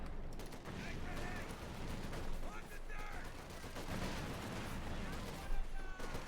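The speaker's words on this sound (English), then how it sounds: "Shot flying right there, another shot bouncing off." Shells and gunfire ring out continuously in a Company of Heroes 2 battle between OKW and USF forces, a dense rattling barrage with sharper bangs and metallic pings over steady rumbling.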